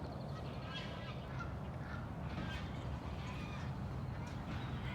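Ducks and geese in a Las Vegas park honk and quack while children chase them, with scattered calls rising over a dense, continuous outdoor wash of noise.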